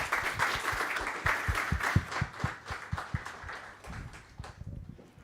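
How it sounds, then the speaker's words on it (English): Applause for a presenter in a conference room at JuliaCon 2024, a modest crowd clapping with distinct individual claps audible, rising then thinning out and fading near the end. "let's give him one more round of applause"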